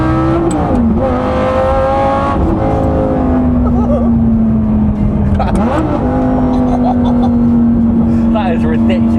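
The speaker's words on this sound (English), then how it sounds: "something happens when you put the windows open where it's like the exhaust gets louder" Lamborghini Gallardo exhaust roaring as the car drives with its windows open, a loud continuous engine drone that drops in pitch between gear changes and rises again, with talking in the cabin underneath.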